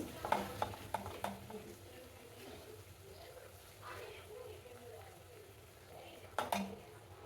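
Cooked rice tumbles into a frying pan for mango rice, giving a soft sizzle and scraping stirs with a few light clinks, faint and close.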